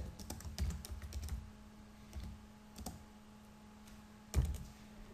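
Fingers tap a computer keyboard entering a font name, a few scattered keystrokes with pauses between them, quiet and close against a faint steady hum.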